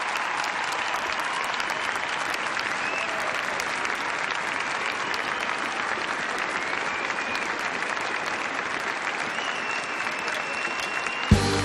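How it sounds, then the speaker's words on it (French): Circus audience applauding, a dense, continuous wash of clapping from a large crowd that holds steady and loud for the whole stretch, ending abruptly. "Applaudissements pour M."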